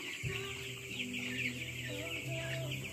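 Broiler chickens on a farm cluck and call steadily throughout, a dense overlapping flock sound with a continuous background hum.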